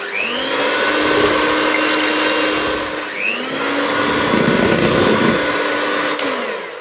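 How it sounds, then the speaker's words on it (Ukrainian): An electric mixer whipping egg whites with a pinch of salt, a steady loud motor whir with rising and falling pitch sweeps as the beaters speed up and work the bowl, alone without speech. "До білків додаю дрібку солі і збиваємо міксером."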